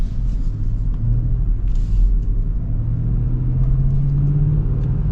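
The 5.0L V8 of a 2025 Ford F-150 regular cab pickup rumbles loudly and close, its deep engine note swelling and climbing in pitch as the revs rise, with no voices over it.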